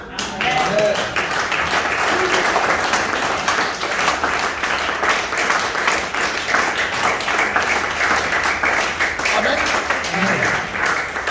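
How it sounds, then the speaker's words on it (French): A church congregation applauding, a sustained wash of clapping from many hands that stays even and fairly loud throughout, with faint voices mixed in. "Est-ce qu'on peut acclamer ça?"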